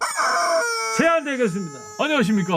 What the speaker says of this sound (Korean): 왜 닭이 울어요?